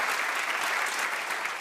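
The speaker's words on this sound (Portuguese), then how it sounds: "Salva palmas para vocês." An audience applauds in a steady, even wash of clapping heard from a moderate distance, with no voices on top.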